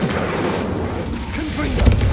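A fire spell cast in the video game Hogwarts Legacy, a loud rumbling whoosh of flames with deep booming bursts, building toward a heavier thump at the end, dense and close.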